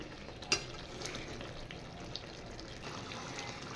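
Fish curry simmering in a pan on the stove, giving a steady, soft bubbling sizzle with one brief clink near the start and no voices.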